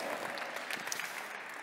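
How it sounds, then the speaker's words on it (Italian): A brief burst of applause from a crowd at an awards ceremony in Bologna, dense and even clapping at moderate volume. "Un applauso per cortesia"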